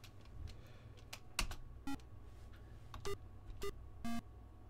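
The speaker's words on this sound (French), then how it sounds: "C'est bip bip." Short electronic beeps from a video game sound in a few separate bursts, some single and some doubled, over faint clicking and a low background hum.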